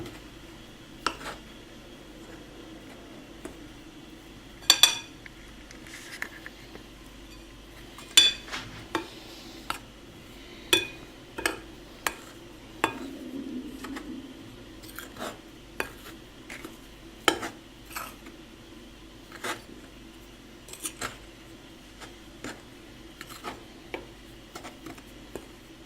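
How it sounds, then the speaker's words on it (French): Salt being stirred into flour for baguette dough, heard as quiet, irregular clinks and taps of a utensil against a bowl, close up and faint over a hushed room. "On commence par mettre le sel dans la farine et je vais touiller"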